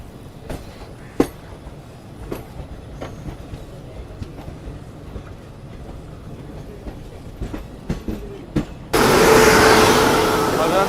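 An Indian Railways long-distance express rolls on after leaving Agra Cantt, its wheels beating a steady clickety-clack over a low rumble, until a loud, sudden rushing roar swells in near the end.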